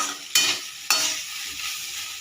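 Potatoes fry in a pan for a banana-stem curry, with two sharp scraping stirs close by that each stir up a burst of sizzle over a softer, steady frying hiss.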